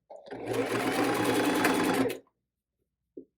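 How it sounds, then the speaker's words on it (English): A sewing machine stitches a 1/8-inch seam along the fabric edge of a drawstring bag in one steady, loud, continuous whir lasting about two seconds. It stops abruptly, and a brief faint knock follows. "we're going to sew with a little 1/8 of an inch right along that edge there"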